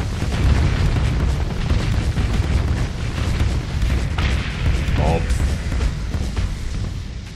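Combat in the space game Starsector, with railgun shots and ship explosions forming a dense, continuous barrage of booms and bursts, plus a brief sharp burst near the middle.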